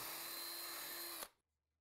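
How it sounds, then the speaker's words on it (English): A power drill boring a pilot hole into a Southern pine cleat, whining steadily and loud for just over a second before stopping abruptly, followed by near silence. "Then drill pilot holes at each mark."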